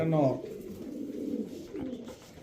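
An Afshan grizzle racing pigeon coos close by, a soft throaty warble repeating once or twice, with a faint voice under it.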